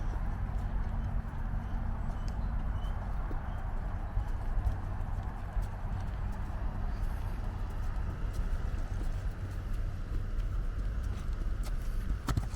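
Horse hooves clip-clopping steadily on a Polish horse farm, a continuous moderate rhythm of footfalls under broad outdoor background noise with faint birds, no talk.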